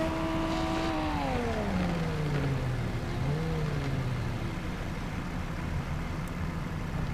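A car engine in the Car Parking Multiplayer game revs on a mountain climb, its drone sliding downward in pitch and then steadying, loud and continuous over a constant background hum, with no voices.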